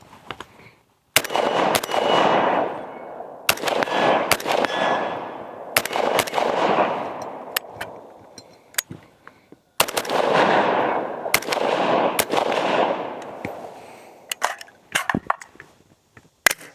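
An AR rifle with wooden furniture fires through a magazine in loud, booming single shots and quick pairs, each echoing with a long, rolling tail, and a few clicks follow near the end.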